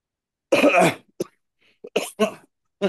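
A single harsh cough rings out close by, followed by a few short throat sounds and small vocal noises amid quiet.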